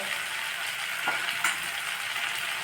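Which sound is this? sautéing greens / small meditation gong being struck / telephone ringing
sautéing greens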